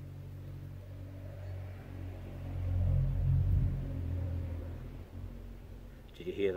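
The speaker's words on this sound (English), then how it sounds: "BMW boxer twin touring bikes." BMW boxer twin touring motorbikes passing on a country road, a low engine rumble that builds to a peak midway and then fades, moderately distant and fairly faint.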